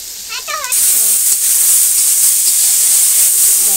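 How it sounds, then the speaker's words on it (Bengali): Lentils drop into hot oil in a home kitchen and set off a sudden loud, continuous sizzle that holds steady, with a voice talking briefly just before it starts. "ডালটা ভেজে নিচ্ছে, তেলে পরে ভেজে নিচ্ছে"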